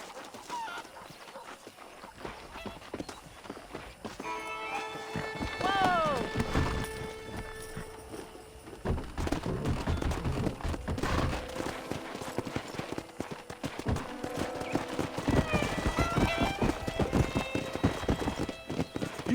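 Hooves pound steadily as horses gallop in the video game Red Dead Redemption, with a high whinny rising partway through and more neighing later, amid busy outdoor game sounds and some voices.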